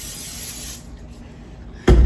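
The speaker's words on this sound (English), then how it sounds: "But I gotta get cooking spray first because I realized that's the trick so it doesn't stick." Cooking spray hisses onto a bread pan for banana bread, one steady spray burst for under a second, then quiet before a sudden loud clunk at the end.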